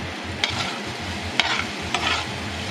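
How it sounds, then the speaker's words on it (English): Close, steady sizzling of fried rice frying in a pan, with a few sharp scraping stirs cutting through the crackle. "now that I hear it sizzling"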